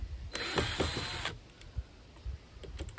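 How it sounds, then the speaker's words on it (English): A screwdriver backs out screws on a Landroid WR155E (L2000) robotic lawnmower, with a close, ratcheting burst of about a second followed by a few faint scattered clicks. "there are three extra screws that you need to unscrew here"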